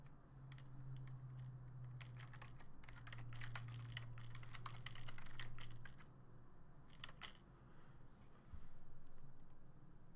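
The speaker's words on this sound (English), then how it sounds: "Make sure you type properly." Close, steady typing on a computer keyboard in quiet bursts of rapid key clicks with short pauses, over a faint low hum.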